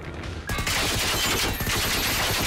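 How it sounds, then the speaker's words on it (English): Sustained loud barrage of explosive fire and blasts in the video game Generation Zero, an enemy launching rockets at the player, starting after a brief quieter moment and continuing dense and continuous. "Oh, he's shooting rockets at me."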